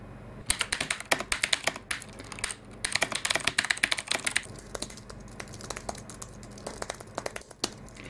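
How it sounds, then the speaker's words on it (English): Rapid typing on a Das Keyboard S Professional mechanical keyboard, crisp clacky keystrokes in bursts with brief pauses, loud and close, no voices. "let's compare that directly with the sound of the DAS keyboard"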